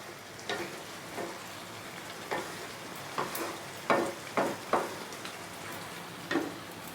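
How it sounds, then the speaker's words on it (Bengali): Fried potatoes being stirred into a mutton curry in a pan, with a soft steady sizzle and a series of scraping, clattering stirs in irregular bursts, close by, no talking. "ভেজে রাখা আলুগুলো দিয়ে দিচ্ছি। আলুটা দিয়েও খানিকক্ষণ কষাতে হবে।"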